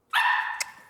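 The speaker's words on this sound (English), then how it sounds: "they will quickly learn that barking is what gets them the food" A puppy lets out one short, high-pitched bark that stretches into a brief yelp with a small catch near its end, close and clear against a silent background.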